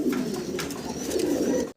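Young pigeons in a loft coo steadily, a low rolling murmur that stays close and continuous, with no voices over it.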